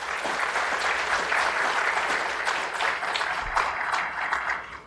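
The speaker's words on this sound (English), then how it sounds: "give a big round of applause to all the students" A neuroscience conference audience applauds its students with steady, sustained clapping from a sizable crowd, holding an even level for several seconds before tapering off at the end.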